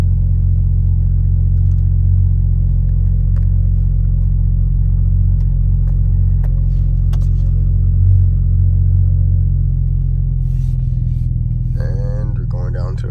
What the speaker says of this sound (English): The cat heat cycle, so probably one of the loudest parts of the exhaust piece of it.